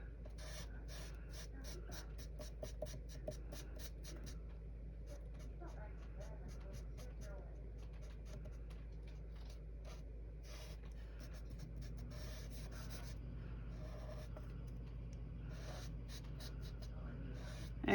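A chisel-tip marker colors on paper in quick, quiet, repeated strokes, producing soft scratchy swishes against a low background hum.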